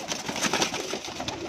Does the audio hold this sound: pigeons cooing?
yes